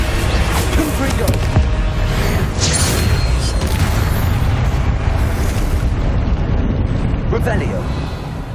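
Confringo blasting spell explosions in the video game Hogwarts Legacy, a loud dense barrage of booms and bursts filling the whole stretch, with game voices shouting over the din.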